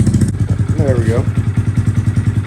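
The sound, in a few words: Honda Grom motorcycle engine at low idle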